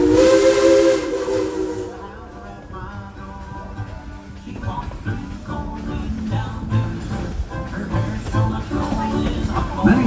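Tweetsie Railroad steam locomotive #190 on a mountain run, a loud multi-tone steam whistle for about two seconds, then hissing steam and rumbling train noise carrying on under it.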